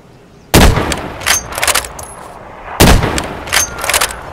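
Gunfire in Escape From Tarkov rings out as two sharp, loud shots a couple of seconds apart, each followed by a string of rattling echoes and smaller bursts that decay back to a quiet background.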